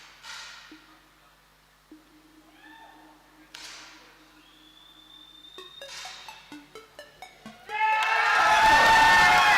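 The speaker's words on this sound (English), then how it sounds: "The crowd go berserk." Spectators at a mixed team 10m air rifle final break into loud cheering and applause as India wins, rising suddenly after quieter electronic tones and a run of short beeps.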